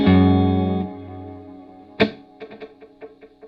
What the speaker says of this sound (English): I love that kind of delay